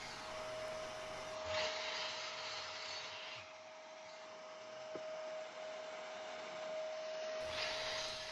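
A wooden ladder side being cut to an angle with a power saw, a steady loud broadband whine running for several seconds with brief lulls between passes; no talking.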